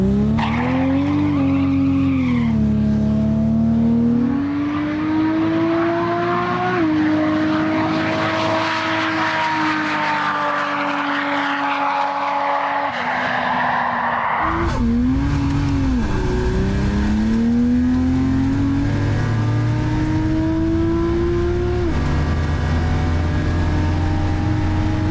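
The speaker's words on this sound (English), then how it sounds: "The first of our Barra-powered competitors was Daniel's FPV-46 from Precision Racing." A Barra-powered Ford FPV drag car launches and accelerates down a runway at a drag battle, its engine a loud, sustained roar climbing in pitch through gear changes, with a brief lull before pulling hard again.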